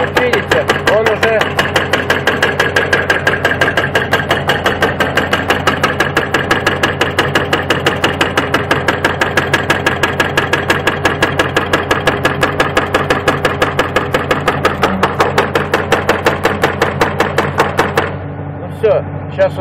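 An overheating hydraulic hammer knocks in a fast, relentless rhythm over a loud engine drone, the hammering close and steady until it cuts off abruptly near the end, leaving only the engine.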